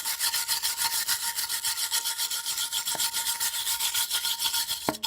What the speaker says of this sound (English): just take a wire brush